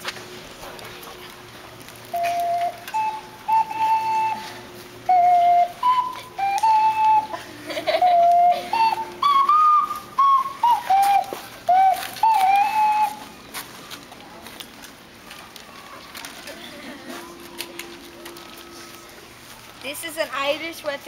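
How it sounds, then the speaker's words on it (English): Ocarina played at an Irish wedding ceremony, a soft breathy melody of short held notes rising and falling for about eleven seconds in a quiet room, followed by faint murmurs and background rustle. "I need you to be really quiet so that you can hear the ocarina."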